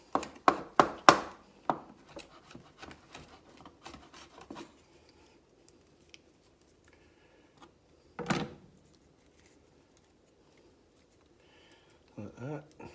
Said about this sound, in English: Just give that a bit of a chop.